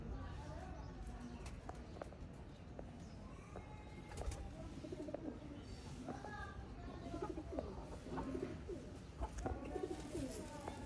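Red-eyed breeder pigeons coo softly and steadily, layered low calls repeating under someone talking throughout, with occasional wing or foot shuffles.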